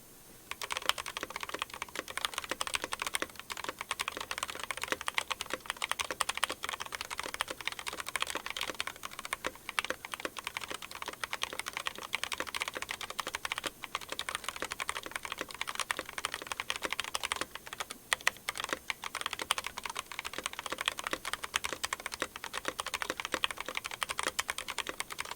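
Steady, rapid typing on an NK87 aluminum keyboard fitted with POM jelly keycaps and Kono Sunset switches, a close, dense stream of keystrokes lasting the whole stretch with no speech.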